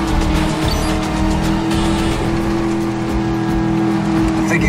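Car driving in Medal of Honor: Warfighter: a loud, steady engine drone with a strong humming tone, holding at high revs for the whole stretch, with faint tyre and road noise mixed in.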